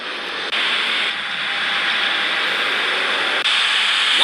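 A jet airliner engine roars in an air traffic controller game, a loud, steady broadband whoosh that holds throughout with small step changes in level.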